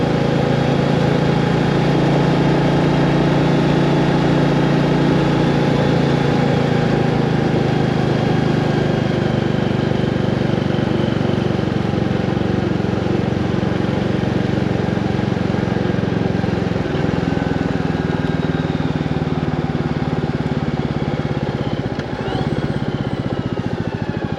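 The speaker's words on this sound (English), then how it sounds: "just wants a nice quiet motorcycle ride with just engine noise" Royal Enfield 350 Classic motorcycle engine heard while riding, recorded on a GoPro: a loud, continuous single-cylinder drone with wind rush that stays steady for the whole stretch, with no talking.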